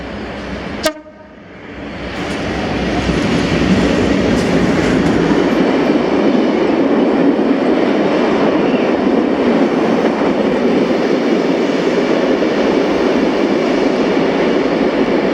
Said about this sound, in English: this is 612C, the 1416 Colas Rail Freight service to Grangemouth